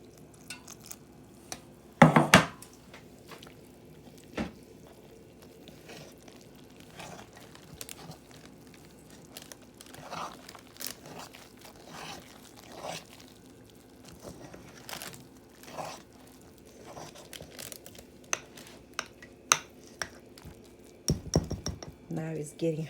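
Beignet dough being stirred by hand in a bowl, with soft scraping and squelching strokes repeating through the clip, a couple of louder knocks against the bowl, and a voice speaking over the mixing.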